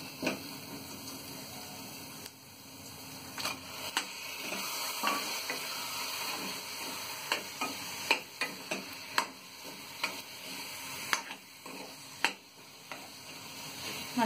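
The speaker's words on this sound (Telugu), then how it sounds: "ఇప్పుడు దీనిలో ఉడికించుకున్న మష్రూమ్స్ వేసుకోవాలి." Boiled mushrooms being stirred into masala frying in a pan for mushroom curry, with a low steady sizzle and repeated soft scraping taps of the spoon that grow more frequent toward the end.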